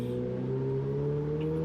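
On-board sound of a car accelerating through a turn on a Phoenix street circuit, a steady engine drone with rising whine, close and continuous with no talking.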